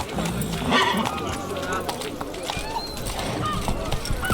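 Roach the horse galloping in The Witcher 3, quick clip-clop hoofbeats with a whinny, running beneath constant voices talking over the action.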